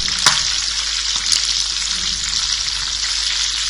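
Quail pieces frying in oil give a continuous close, bright sizzle with a couple of sharp spatter pops near the start.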